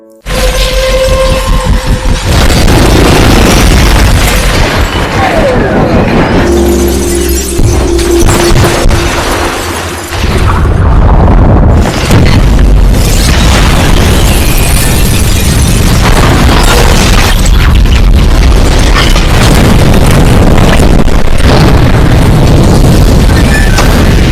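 A loud, sustained helicopter explosion in a film, with crashing and shattering debris, followed by continued heavy rumbling and roaring, dense and powerful throughout.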